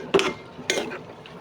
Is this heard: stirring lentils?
yes